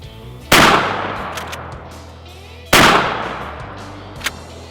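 .308 rifle shots fired at a printer sitting on a log outdoors: two loud, sharp cracks a couple of seconds apart, each followed by a long rolling echo that slowly fades.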